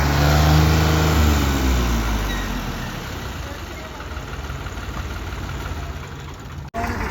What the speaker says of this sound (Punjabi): ਆਵਾਜ਼ ਕਰੋ ਟਰੈਕਟਰ